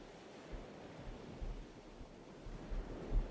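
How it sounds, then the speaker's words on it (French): Ocean waves breaking gently on a sandy shore, a soft, faint continuous wash with low, rolling surges and light wind rumble, no voices. "plus tu t'approches de la mer et plus tu vas venir entendre les bruits des vagues"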